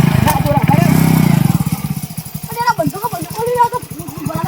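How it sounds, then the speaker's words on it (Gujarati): Motorbike engine running with a fast, chugging putter that rises and settles near the listener, while people talk over it. "બાઈક ચાલુ થઈ ગયું"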